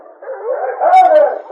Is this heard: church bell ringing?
no